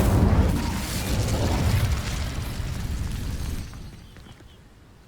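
Incendio fire spell cast in the wizarding game Hogwarts Legacy, a loud burst of whooshing flame that roars and crackles for a few seconds, then fades away.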